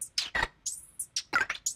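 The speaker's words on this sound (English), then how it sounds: "These hi-hats I just like put through the Ableton frequency shifter and then put an LFO on it to modulate the frequency." A hi-hat loop run through a frequency shifter with an LFO sweeping the shift gives short, bright, chirpy hits that glide up and down in pitch, pulsing rhythmically at a moderate level with no voices.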